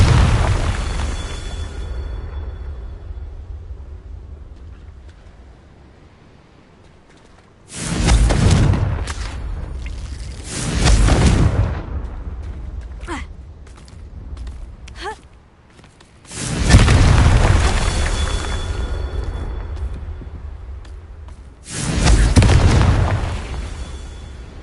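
Confringo spell blasts in the Hogwarts Legacy video game: several loud booming explosions with whooshing bursts, separated by quieter gaps of rumbling game ambience and no talk.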